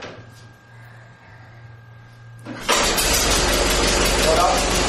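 A Ford Model T engine starts up suddenly after a quiet stretch with a low hum, then runs loud and rough in a steady broadband chug; someone speaks over the quiet part before it fires.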